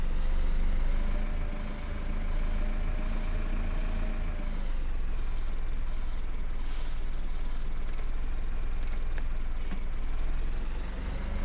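A bus in the OMSI 2 simulator reverses. A loud, steady diesel engine drones with a hissing air-brake release and faint reversing beeps, continuous and close throughout.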